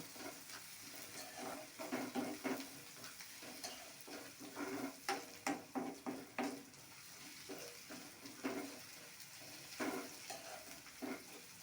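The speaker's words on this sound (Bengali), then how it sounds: "আবার একটু বেশ ভালো করে লাল লাল করে ভাজবো" A crushed ingredient fries in oil in a pan until reddish, with a steady soft sizzle broken by repeated scraping stirs of a utensil against the pan, fairly quiet and close, no voices.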